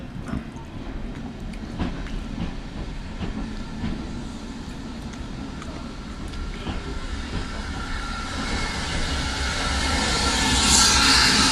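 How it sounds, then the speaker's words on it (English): A small steam train on a heritage railway rumbles past in the countryside, a steady rolling clatter that swells louder toward the end. "just the occasional passing little steam train"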